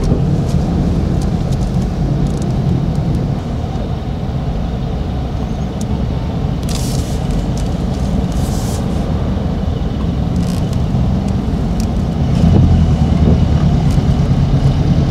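Rainy-day city road traffic in Davao, a steady close rumble of car, bus and truck engines with occasional hissing air brakes and passing vehicles, no talk.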